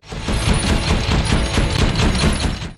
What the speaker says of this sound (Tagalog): kumuha si Mason ng malaking baril at pinaputukan silang lahat.